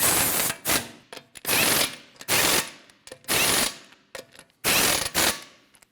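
Ratchet wrench snugging lug nuts on a Honda CR-V wheel, loud close clicking bursts in about six separate spells with short pauses between them.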